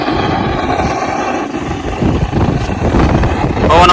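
A helicopter flying over a village makes a loud, steady, close rotor drone and roar that never breaks and builds slightly toward the end.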